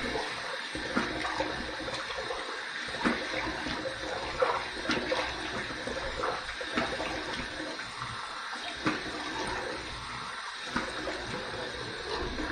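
Water running and splashing into a bathroom sink during rinsing while shaving, a steady close wash of flow with irregular sloshes and drips.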